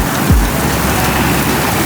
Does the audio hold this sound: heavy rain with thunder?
yes